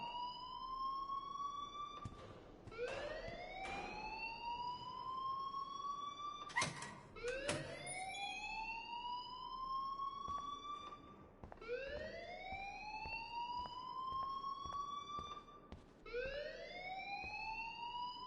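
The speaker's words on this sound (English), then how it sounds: "please turn off that alarm since that's your job" Alarm siren wailing in a video game, repeated rising sweeps about every two seconds, steady and fairly loud with a few sharp clatters between cycles and no talking.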